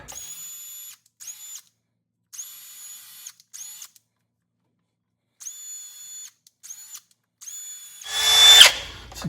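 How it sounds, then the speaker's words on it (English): A wire brush spun on a power drill cleans the drive shaft yoke holes of a 1969 Chevy C10, the whining buzz running in several short bursts and stops, ending in a louder, harsher scrub against the metal. "It's a cute, good little wire brush that you can get from Harbor Freight."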